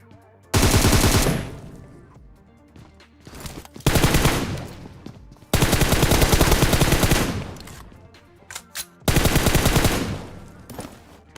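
Four loud, sustained bursts of automatic gunfire in PUBG Mobile rip out close by, each rapid rattle lasting one to two seconds, separated by quieter gaps with faint echoes and scattered shots.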